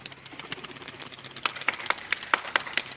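Smoky-colored pigeons released outdoors take off, with a run of sharp, rhythmic wing claps and flutters close by over light background ambience.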